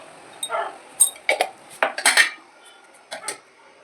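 Ash gourd and fried lentil dumplings are stirred in a pan, a spoon scraping and knocking against the metal in several short, sharp bursts with quiet gaps between.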